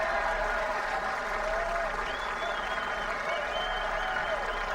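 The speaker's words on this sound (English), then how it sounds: "Listen to that applause." A golf gallery applauds at the Dubai Desert Classic play-off, a steady broad wash of clapping from a large crowd, heard from a distance, with faint voices mixed in beneath it.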